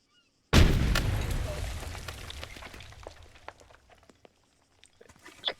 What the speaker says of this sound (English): can you throw a grenade in those ruins? Nade out.